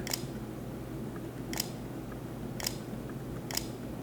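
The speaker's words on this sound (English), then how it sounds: "just a little camera click just to add a little pop to it" A camera shutter clicks four times at irregular intervals. Each click is crisp and sharp over a low, steady background hum.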